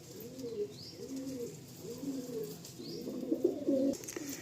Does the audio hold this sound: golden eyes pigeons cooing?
yes